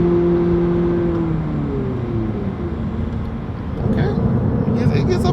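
A cambered Toyota Prius accelerating, its engine and motor rising in a steady whirring drone heard from inside the car, with a brief sharper noise near the end.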